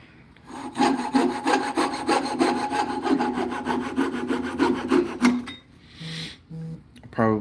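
A handsaw rasps back and forth through a wood piece on a woodturning lathe in steady rhythmic strokes, close and loud for about five seconds, then stops, with a voice talking nearby.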